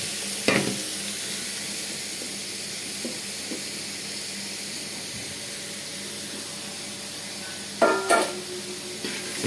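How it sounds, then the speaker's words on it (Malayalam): Pineapple pieces stirred in hot oil for a pineapple pachadi, a steady low sizzle and hiss with a few soft scraping knocks early on and a louder clatter of stirring near the end; no voices. "ഇതൊന്ന് ഇളക്കുക, നല്ലപോലെ ഇളക്കുക."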